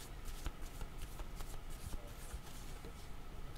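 A deck of cards shuffled for a card reading, with a steady, close, crisp riffling patter and soft taps running throughout.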